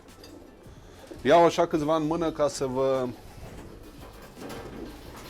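Pigeons coo inside a breeding loft, a loud close burst of several rolling coos in quick succession, heard alongside someone speaking Romanian.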